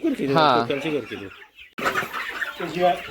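Native gavran chickens on a poultry farm cluck and squawk loudly up close in two short bursts separated by a brief gap.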